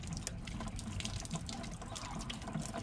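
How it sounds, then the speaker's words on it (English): Soapy water sprayed onto RV propane fittings to check for leaks, a continuous close hissing spray with no pauses throughout. "I'm gonna shoot some of this soapy water on here just to see if I get any bubbling"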